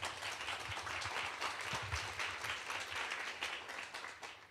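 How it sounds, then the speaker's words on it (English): A panel audience at an innovation talk applauds a panelist, steady crowd clapping heard faint and distant, continuing evenly and tapering off at the end. "A great applause to Lisa."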